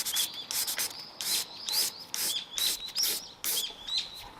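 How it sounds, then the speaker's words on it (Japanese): Wet or fine sanding of a Mazda RX-7 FD3S body part with 2000-grit paper during a restoration, heard as repeated close scraping strokes in bursts, with a high bird chirp recurring in the background. "そして2000番のペーパー、これで削って平らにします。"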